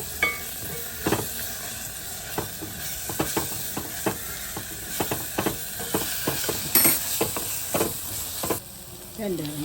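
Curry leaves tossed into hot oil in a pan while a Tamil side dish is cooked, giving a soft steady sizzle with spoon stirring and scraping clicks.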